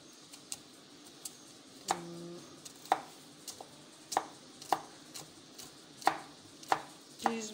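Vegetables being finely chopped with a knife on a board for a vegetable omelette, a steady series of crisp, close knife strikes at an irregular rhythm with quiet kitchen background.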